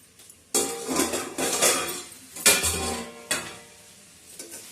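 A lid is put over a pan of vegetables cooking for chow mein, giving a few loud close metallic clanks and clatters among faint sizzling, with no talk.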